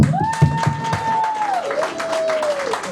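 An audience at a comedy show claps in a scattered patter while a loud whistle holds and then slides downward.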